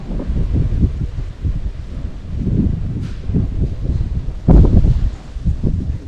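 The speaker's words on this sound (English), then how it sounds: "I think that wind's helping it get going, isn't it?" Outdoor wind gusting and buffeting a microphone beside a cheese-smoking fire being lit, a steady rough rumble with a sharper burst near the end.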